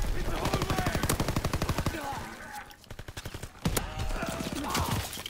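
Rapid automatic gunfire in the shooter game Call of Duty WWII, Kill Confirmed mode: close bursts of rhythmic shots with a brief lull, then more fire, game voices mixed in.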